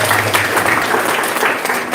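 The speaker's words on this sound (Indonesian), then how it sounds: "Ya, tepuk tangan lagi lah." A church congregation claps steadily, a dense, loud wash of applause filling the hall evenly with no break.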